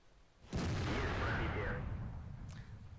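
A SU-122-44 tank gun firing in a tank video game: one loud, heavy cannon blast with a long rumbling decay, then a fainter second shot near the end.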